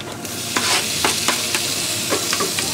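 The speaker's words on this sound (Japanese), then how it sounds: "あ、いい感じに炒めてますね。" Meat for curry stir-frying in a pan, a loud, close, continuous sizzle with repeated scraping strokes of a utensil at a fairly regular, brisk rhythm.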